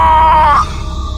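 A woman's scream heard over a phone in a Hindi horror story, one loud strained cry of about half a second with a wavering pitch that cuts off abruptly, leaving a low hum.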